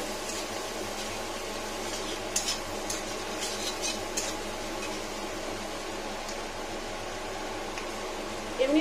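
Taro (arum) sizzles steadily in a pan while being stirred, a continuous soft frying hiss with occasional faint scrapes of a utensil, close and fairly quiet throughout.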